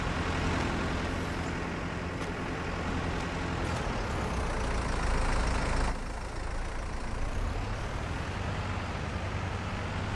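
Tractor engine in the video game Farming Simulator 22, a loud, continuous low rumble and drone that holds steady for the whole stretch with a brief shift partway through, no voices over it.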